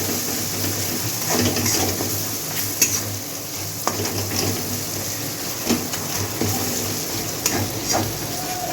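Cumin and coriander powder being stirred in a pan with a spatula, soft sizzling frying under repeated scraping strokes and occasional light metal clinks, close up, no talking.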